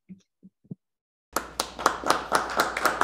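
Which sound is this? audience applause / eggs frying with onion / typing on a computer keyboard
audience applause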